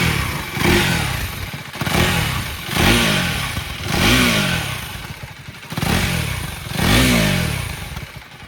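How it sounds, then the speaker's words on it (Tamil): A KTM Duke 390R single-cylinder motorcycle exhaust is revved in six distinct throttle blips, each rising and falling, loud and close with a rough, clattery edge. "இந்த பைக்கோட எக்ஸாஸ்ட் சவுண்ட் எப்படின்னு பார்த்துடலாம்."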